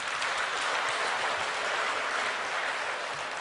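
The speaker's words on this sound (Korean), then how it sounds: "영생을 허락하신 하나님께 감사 박수 한번 해요" A church congregation claps in thanks during a Korean Sunday sermon, a continuous wash of many hands that stays fairly quiet and distant and holds evenly throughout.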